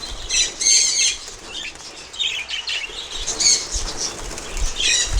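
A large flock of budgerigars bought for breeding flap their wings in bursts, mixed with scattered chirps and tweets, in a busy, close fluttering that keeps rising and falling.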